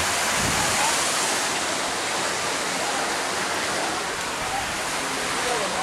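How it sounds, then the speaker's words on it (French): A waterfall cascade at a swimming pool roars as a steady, loud rush of falling water, filling the whole clip without letup. "Ah, il y a la cascade là-bas, ça y est."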